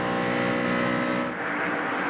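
A NASCAR race car at the 2001 Protection One 400 drones at full power, then the engine note eases as the driver lifts off the throttle, loud and steady throughout.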